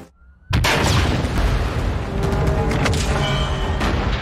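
A hideout is blown up in a film scene: a sudden loud blast erupts after near silence, then a sustained rumbling roar with debris and crackling continues to the end, with no talk.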